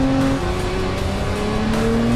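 Lotus Emira sports car pushed hard through high- and mid-speed corners, a steady loud engine drone with sustained tonal whine and slight pitch shifts, continuous with no talking.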